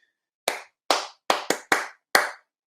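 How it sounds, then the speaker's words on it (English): Six sharp, separate hand claps ring out at a slow, uneven pace, crisp and close, with silence between each one and no voices. "Clap for yourselves."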